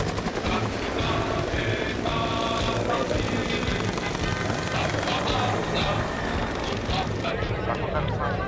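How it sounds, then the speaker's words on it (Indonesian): Army helicopters, an AS-350 and a Bolkow 105, fly over an Indonesian Army military demonstration in Baturaja, their steady loud rotor and engine roar filling the air continuously, with a voice speaking over it. "Diawali oleh elemen 3 unit helikopter AS-350 dan Bolko 105."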